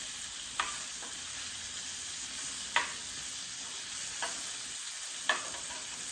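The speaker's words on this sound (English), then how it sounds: "searing the tuna. It's a beautiful tuna. Make sure that it's seared well without fully cooking." Tuna searing in a pan, a steady quiet sizzle with a few soft clicks or taps scattered through it, with no talking.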